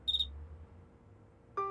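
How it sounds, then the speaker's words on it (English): A cartoon cricket gives a short high chirp near the start, followed by a quiet pause and then a brighter electronic-sounding tone at the end, with no talk over it. "I like the sound of crickets, only not in the house."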